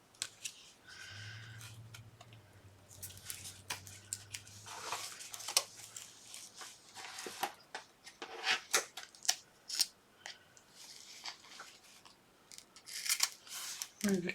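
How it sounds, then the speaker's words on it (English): Scissors snip through foam tape during a holiday papercraft project, giving a string of close, crisp crunchy cuts and rustles with an uneven rhythm, plus a brief low hum near the start. "I'm going to cut about that size of the foam tape"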